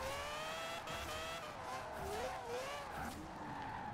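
Tires squeal continuously as a car drifts through loops in a racing video game, the engine droning steadily under a long, wavering skid that rises and falls in pitch.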